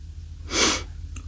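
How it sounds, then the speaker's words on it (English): A single human sneeze bursts out over a steady low hum, loud and close, rising and fading within about half a second, with a faint click just after. "I have a sneeze coming up."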